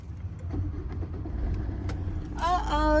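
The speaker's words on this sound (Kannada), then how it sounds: "ಗಾಡಿ ಸ್ಟಾರ್ಟ್ ಆಯಿತು" A car engine cranks and catches, a low rumble building under faint background sounds, then rising to a steady idle while a voice talks briefly over it near the end.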